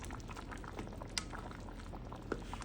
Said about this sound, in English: let's take a peek and see how the peaches are doing in the rice cooker.